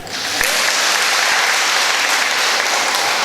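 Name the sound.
audience clapping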